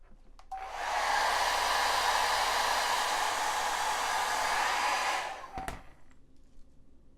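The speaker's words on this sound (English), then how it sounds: "And I'm really sorry about the hair dryer noise" A hair dryer blows steadily on a 3D-printed hairy lion to soften its printed strands, switching on with a rising whoosh and holding a loud, even airflow for about four seconds before cutting off.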